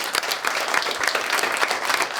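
A studio audience applauds loudly and steadily, dense clapping filling the whole stretch without letting up, no voices rising above it.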